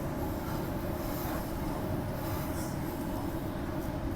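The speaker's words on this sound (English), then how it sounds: "There goes that Claremont train entering platform 7 over there" A Perth train entering platform 7, a continuous loud rumble of wheels on rails with faint squealing and clatter, heard steadily throughout without talk.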